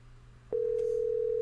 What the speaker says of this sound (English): Can you hear the phone ringing?